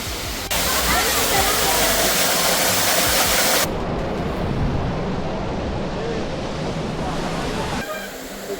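Loud, continuous roar of a nearby waterfall at Malshej Ghat, dense rushing water with wind buffeting the microphone; the tone shifts partway through but never stops.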